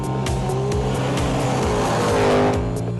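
A Holden HK rally car with a stroked 350 Chevy engine roars loudly and continuously at close range, with repeated revs and shifts and a hint of tyre squeal, and nobody speaking.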